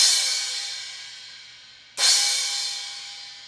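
A 16-inch Zildjian EFX cymbal struck twice, about two seconds apart, each hit a bright, trashy splash-like crash that decays quickly and fades, played alone up close.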